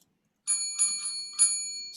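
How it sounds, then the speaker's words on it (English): A service bell dings three times in quick succession, bright metallic rings with long shimmering tails, loud and close after a short silence, with a fourth strike starting at the very end. "Okay, it's called Service Bell."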